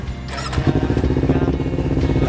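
A motorcycle engine runs steadily nearby, a low rhythmic idle thrum with a slight rise partway through, heard alone without voices.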